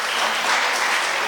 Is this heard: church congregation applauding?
yes